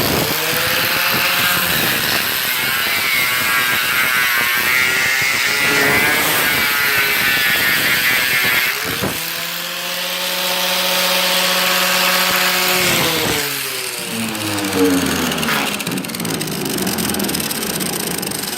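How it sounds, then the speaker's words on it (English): An aggressive grinder takes Bondo off the body of a 1971 Cutlass. Its loud, close motor whine holds steady, then drops and shifts pitch several times as the disc bites and eases off. "This is a grinder, aggressive grinder."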